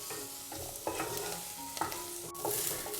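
Coriander leaves, garlic and ginger sauté over a medium flame, a soft steady sizzle under repeated clinks and scrapes of a spatula against the pan, quiet and close with no voices.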